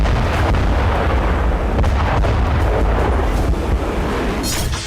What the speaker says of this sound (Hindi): लगातार धमाके हो रहे हैं।